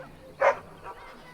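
A dog in the Dragon Age: Origins video game gives a single short bark, followed by a softer yelp, close and brief.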